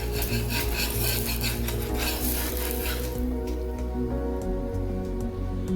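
Rava dosa batter being stirred in a bowl, giving a continuous close scraping, rubbing swish that grows quieter and thinner midway, with a low steady hum underneath.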